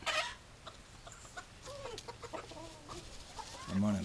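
A chicken clucks close to a camera on a tripod outdoors, giving a run of soft low clucks with a louder squawk-like call at the start and another near the end, over faint background noise.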